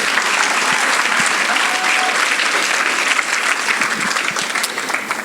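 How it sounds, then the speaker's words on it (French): Crowd at a school fair claps steadily and briskly for about five seconds, a bright continuous patter of many hands at fairly close range with no voices rising above it. "On applaudit elle aussi."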